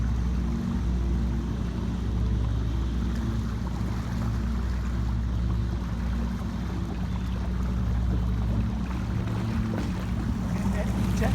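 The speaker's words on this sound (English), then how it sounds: "that E-tec is running nice" Glastron CVX16 boat running on a lake with an Evinrude E-TEC 150 HO outboard, a steady deep engine drone with wind and water rush throughout, close and continuous.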